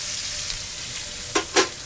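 New York strip steak searing in a pan, a steady close hiss of sizzling fat with two brief louder spatters near the end.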